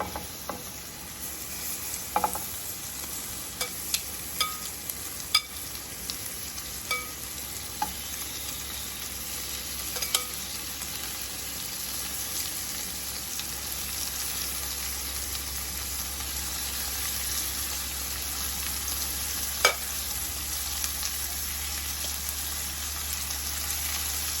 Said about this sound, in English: now I'm going to add my shrimp in